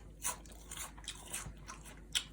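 Someone bites into a crispy fried mugwort pancake, giving several sharp, close crunches spaced unevenly over a couple of seconds, with no talking.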